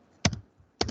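A short burst of computer keyboard typing, two quick clusters of key taps close up in a quiet room, entering a username during a Linux admin session.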